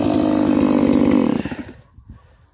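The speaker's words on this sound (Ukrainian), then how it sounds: "Глушу бензопилу" A petrol chainsaw runs loud and steady at close range for over a second, then is switched off and winds down into quiet ticks and rattles, at a pigsty being built and insulated.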